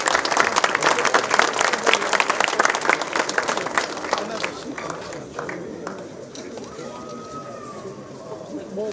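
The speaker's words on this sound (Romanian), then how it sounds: "Haideți cu rând de aplauze" An audience applauds at a fight-show press conference where contracts were just signed, dense clapping that thins out midway as a voice and crowd murmur carry on underneath.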